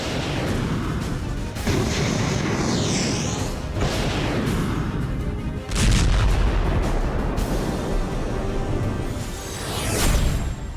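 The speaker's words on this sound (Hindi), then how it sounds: "इजराइल पर हर एक घंटे में 10 मिसाइलों के धमाके करने लगा ईरान" Missile strikes in the Iran–Israel conflict set off heavy booming blasts and rumbling detonations. Whooshing streaks and crackling debris come between them, and the loudest blasts arrive near the middle and at the end.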